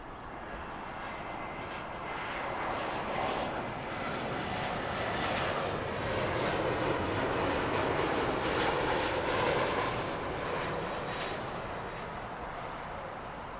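An Austrian Airlines jet lands on runway 09 left at Heathrow, a steady, distant broadband engine roar swelling gently and fading slightly, with no talk.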